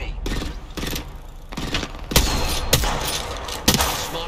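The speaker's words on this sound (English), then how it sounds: "The enemies are shooting at me." Enemy gunfire in Apex Legends: a rapid series of sharp gunshot bursts, some close and loud, coming in irregular volleys over about four seconds.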